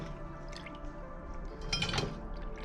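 Liquid trickling and dripping as lemon rinds drain for homemade limoncello, a soft steady wet patter with a brief louder splashy burst near the end, close and alone.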